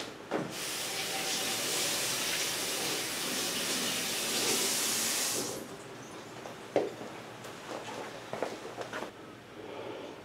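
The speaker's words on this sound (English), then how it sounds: "Let me rinse it off real quick." Running water rinses a whetstone after flattening, a steady broadband rush for about five seconds that then stops, followed by a few brief splashes and drips.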